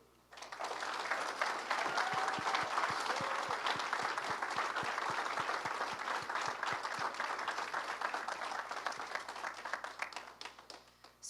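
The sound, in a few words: audience applause for the dance cast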